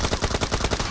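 Rapid bursts of automatic gunfire in the battle royale shooter PUBG Mobile, a loud, close, steady rattle of shots with no talk over it.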